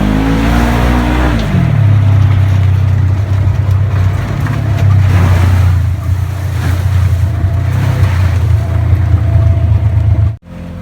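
A Polaris General 4 side-by-side on a trail in Michigan's Keweenaw Peninsula revs its engine up at the start, then settles into a loud, steady drone close by, ending with an abrupt cut.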